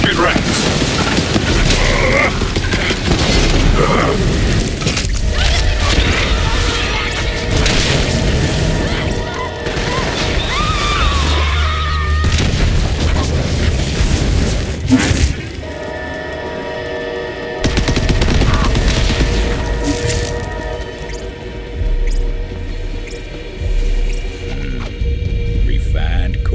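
Heavy booming blasts from refined core bombs in Borderlands 3's Bounty of Blood, rolling and crashing over dense game effects and a steady hum, with a brief lull midway before further bursts.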